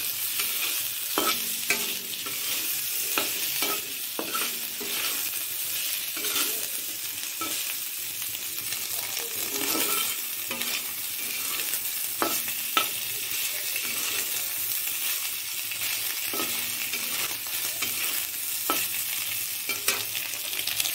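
Ginger, garlic and raw onion stir-frying in a hot pan, a steady close sizzle with a spatula scraping and clicking against the metal at irregular intervals, with no voices.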